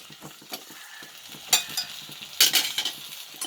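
Onion, garlic, tomato and mint being sautéed in a pan for chutney, a soft sizzle under rhythmic scraping strokes of a spatula, with a couple of louder clattering stirs, no speech.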